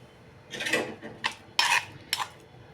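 Eggplant chutney being pounded by hand in a stone mortar, with four short bursts of scraping and grinding spaced irregularly over a quiet background.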